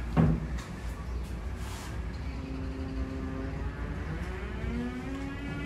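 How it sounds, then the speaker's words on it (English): A Home Depot shed's swinging door with a window on top opens with a quick knock and scrape at the start, followed by a steady, hollow room tone. "this really nice swinging door here that has a window on the top"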